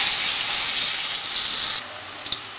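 Pumpkin pieces deep-frying in hot oil over medium heat give a steady, close sizzling hiss that drops abruptly to a quieter crackle partway through, with a couple of small pops near the end.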